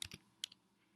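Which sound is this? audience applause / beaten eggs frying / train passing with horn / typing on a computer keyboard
typing on a computer keyboard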